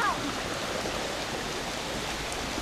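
Floodwater rushing through a creek after heavy rain, spilling over a small waterfall; a steady broadband rushing wash, fairly faint and continuous throughout.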